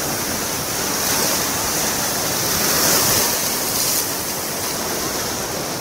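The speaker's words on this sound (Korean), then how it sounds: "파도가 그래도 나쁘진 않아요" Sea waves breaking on a beach at Yangyang on Korea's Gangwon coast in calm, windless conditions: a steady, loud wash of surf that swells slightly in the middle, with no voices.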